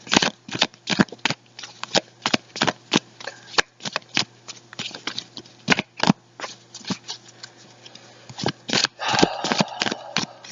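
Tarot cards being shuffled by hand, a rapid run of crisp riffling flutters and slaps, close and loud, continuing steadily without voices.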